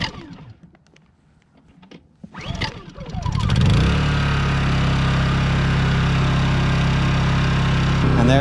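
Honda EU2200i inverter generator converted to run on propane, cranked with a pull start and then settling into a loud, steady, close running drone.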